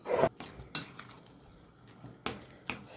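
Utensil clanks against a bowl as grated vegetables are mixed in a home kitchen, a few sharp metallic knocks separated by quiet soft stirring, close up with no talking.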